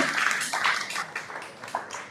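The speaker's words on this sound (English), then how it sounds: "Please give your big hand of applause out." An audience at the YLPF Photo Fair 2022 claps to welcome a speaker, a brief spread of hand claps that thins out toward the end.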